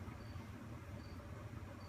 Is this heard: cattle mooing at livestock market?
no